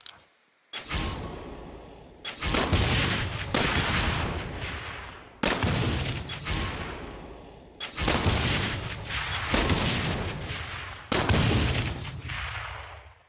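Gunfire in the video game Saints Row: a few loud, sharp shots, each trailing into a long rumbling echo, spread across the clip with short pauses between them and no talking.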